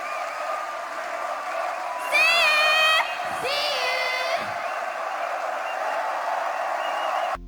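A large festival crowd at a BABYMETAL concert roars steadily, with loud shrill cheers and whoops rising above the sustained wall of noise.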